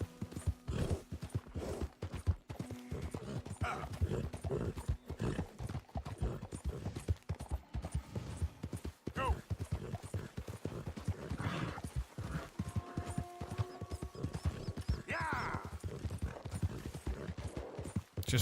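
Steady clip-clop of horse hooves trotting at an even rhythm in the game Red Dead Redemption 2, close and continuous, with occasional faint tones in the background.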